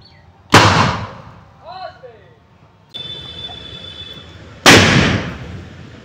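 Homemade Diwali firework missile bursting: two sharp, loud explosive bangs separated by a few seconds, each with a trailing crackle, plus a brief whistle-like squeal and a hiss between them.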